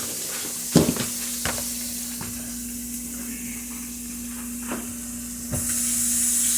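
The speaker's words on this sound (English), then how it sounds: "Now I've added me some butter. While I'm at it, I'm gonna let this butter toss around the pan." Butter sizzles gently in a pan on an electric stove while cooking lamb, a steady soft hiss with a steady hum beneath it and a few sharp clinks and scrapes near the start and toward the end.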